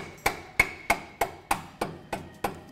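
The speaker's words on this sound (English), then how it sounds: "Sometimes it helps to use a little mallet to pop that shock bolt in." A small mallet taps a shock bolt into place in eight evenly spaced, sharp metallic knocks, close and clear with short ringing tails.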